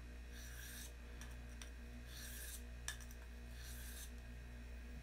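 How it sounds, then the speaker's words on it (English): A knife blade rasps in repeated strokes across a small sharpening stone, a steady back-and-forth scraping in short bursts over a low constant hum, with no voices. "Just sharpening a knife on a little stone or a plate or something."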